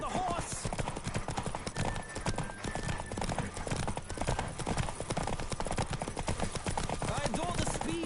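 A horse galloping in The Witcher 3, rapid rhythmic hoofbeats drumming steadily throughout, with a brief whinny near the start and a quiet rush of motion behind them.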